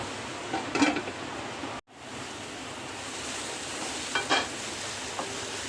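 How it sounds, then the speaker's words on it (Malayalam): Sliced onions softening in a covered pan for egg curry, a low steady sizzle with a couple of brief scraping stirs, one early and one later, and a short break in the middle. "നമ്മുടെ സബോള നന്നായി വഴണ്ട് വന്നിട്ടുണ്ട്"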